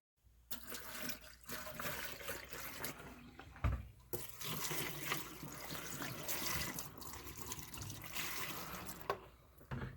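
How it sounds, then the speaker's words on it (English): Liquid antifreeze is poured down a sink drain to fill the drain trap for winterizing house plumbing, a steady close gurgling rush of liquid into the drain lasting several seconds with a brief thump partway through. "Pour it down all drains. The key here is to get the drain trap filled up with antifreeze"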